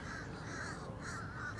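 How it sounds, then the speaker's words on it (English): Crows cawing repeatedly outdoors, harsh calls over a steady background hiss, moderately distant. "We love crows."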